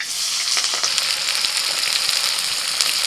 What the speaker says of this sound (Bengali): তেল গরম হয়ে গেছে, পেঁয়াজ কুচি দিয়ে দিচ্ছি।